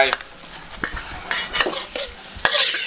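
Chinese kale and sun-dried salted snakehead fish are stir-fried in a pan, with metal utensils scraping and clattering in quick irregular strokes over a light sizzle.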